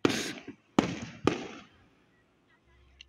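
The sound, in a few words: fireworks exploding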